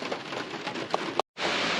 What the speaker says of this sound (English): it's raining outside and steel roof, so you probably hear the raindrops in the background.